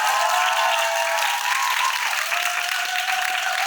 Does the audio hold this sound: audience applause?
yes